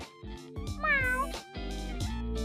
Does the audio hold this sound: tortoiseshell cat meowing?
yes